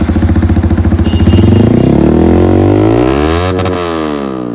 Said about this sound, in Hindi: तो अभी बाइक खड़ी है तो और एक बार आप आवाज़ सुन लो।